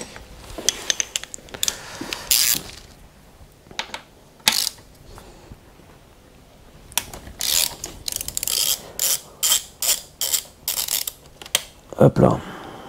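Ratchet working a bolt loose on a BMW S1000R motorcycle, with bursts of rapid metallic clicking that come in short, irregular runs and grow denser and more rhythmic toward the end, close by, with brief speech in places.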